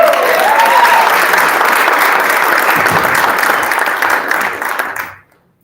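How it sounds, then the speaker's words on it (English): An audience at a school board meeting claps for Marissa, a sustained, even round of applause that carries for about five seconds before cutting off abruptly into silence. "Can I get claps for Marissa?"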